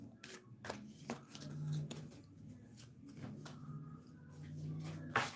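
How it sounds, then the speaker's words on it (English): A tarot card deck being shuffled by hand in a series of soft, papery riffles and taps, close and fairly quiet, with no voices. "And we can go ahead and shuffle"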